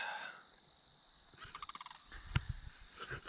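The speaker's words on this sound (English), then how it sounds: "I don't know if you guys can hear that, but those are some sandhill cranes." Sandhill cranes call outdoors on a farm near corn rows, a faint distant burst of rattling, rolling bird calls rising over quiet wind-like background noise.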